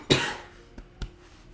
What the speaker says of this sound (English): I'm having those allergy coughs right now still